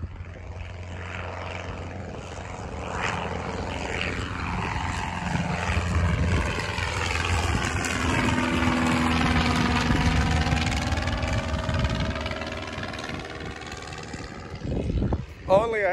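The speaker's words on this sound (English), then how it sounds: "It's a nice little airplane." A small single-engine propeller airplane drones steadily and loudly up close for the whole stretch, its engine tone rising and shifting in pitch through the middle before a brief dip near the end, with no talk over it.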